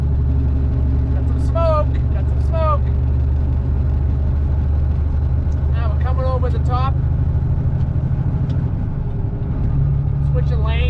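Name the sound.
semi truck engine pulling uphill after downshifting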